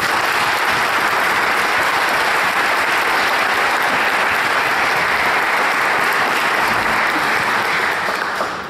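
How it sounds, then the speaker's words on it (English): At a Royal Regiment of Scotland concert, the audience breaks into loud, dense applause that holds steady for several seconds before tapering slightly at the end. "Have another round of applause if you don't mind."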